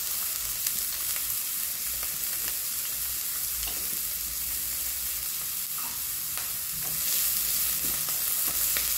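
Onion fries in a pan with garlic while meat for nachos is being prepared, producing a continuous broad sizzle with occasional soft stirring scrapes, moderately loud and steady, with no voices.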